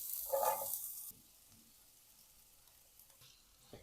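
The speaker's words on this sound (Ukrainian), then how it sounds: "і обсмажую до напівпрозорості" Onion dropped into sunflower oil in a frying pan sizzles loudly for about a second, then settles into a quiet, steady low crackle with faint stirring. No one speaks.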